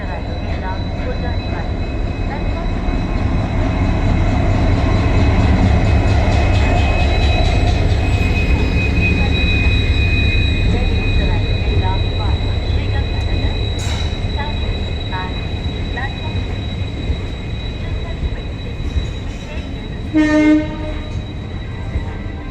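Barmer Rishikesh Express train 14888 at Bikaner railway station, a loud rumbling train with rolling wheels and a long horn blast, squealing wheels near the end, under a voice speaking.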